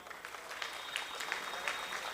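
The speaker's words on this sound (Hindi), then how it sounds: "आप लोगों को एक ताली तो बजानी बनती है" An audience at an award ceremony claps along, a soft, steady patter of many hands heard at a distance and fairly quietly, with a few sharper claps standing out, and no voices over it.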